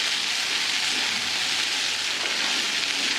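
Kurdai chutney sautéing in a pan, a steady broadband sizzle that holds evenly loud and close throughout with no pauses or talking.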